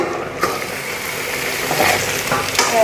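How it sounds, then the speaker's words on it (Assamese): Chicken and onion frying in spices for butter chicken, a loud close sizzle with scraping stirring sounds throughout. "এইখিনি এতিয়া মই আৰু অলপ ভাজিবলৈ থ'ম"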